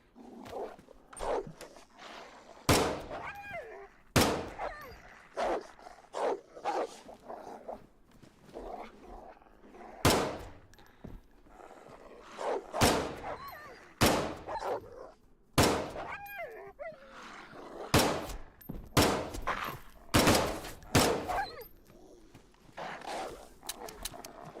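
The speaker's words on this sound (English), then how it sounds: "I might have to shoot him with a pistol" Pistol gunshots in the survival video game DayZ, set in Chernarus: a string of sharp, loud cracks spread unevenly across the stretch, some in quick pairs, with fainter scuffling and movement sounds between them.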